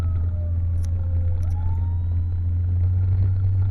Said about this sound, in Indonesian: trouble iki sirene koi.